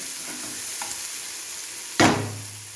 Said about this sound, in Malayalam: ഉള്ളി നന്നായി വഴന്ന് വന്നിട്ടുണ്ട്.